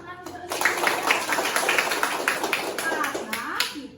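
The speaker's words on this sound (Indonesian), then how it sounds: "tepuk tangan untuk Senin" Classroom children clap together for a classmate, a dense, bright patter of many small hands lasting several seconds, with young voices chattering over it.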